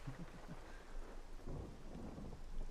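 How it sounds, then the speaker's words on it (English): Rain and thunder in the video game Everybody's Gone To The Rapture: a steady wash of rainfall with low rumbling thunder rolling underneath, fairly quiet and with no voices. "And now the rain's turned up."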